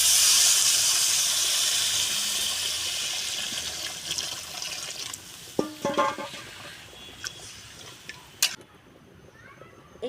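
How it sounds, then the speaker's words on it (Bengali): Hot water poured into a pan of fried potatoes for an egg and potato curry bursts into a loud, hissing sizzle that slowly fades, followed by a few clinks and knocks of utensils. "এখন আমি জল দিয়ে দেব"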